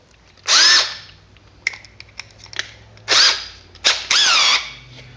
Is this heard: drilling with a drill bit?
yes